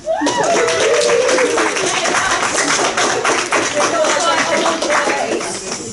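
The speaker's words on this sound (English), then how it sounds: "I think you should all give yourselves a round of applause." A crowd at a UK anime fan convention panel claps for itself in dense, sustained applause that fills the room for several seconds, with a voice heard over the start before it slowly tapers.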